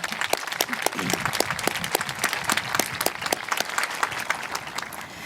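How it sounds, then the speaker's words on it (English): A graduation crowd at Blue Ridge Academy's ceremony at Azusa Pacific applauds to welcome a speaker, loud dense clapping from many hands filling the hall continuously, with faint crowd murmur underneath. "Let's give a big round of applause and a warm welcome to Dr. Scott Meyer."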